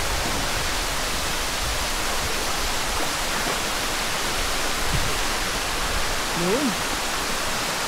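Batlag Falls waterfall roaring as a dense, steady wash of broadband water noise that swamps everything, with a brief voice speaking faintly beneath it.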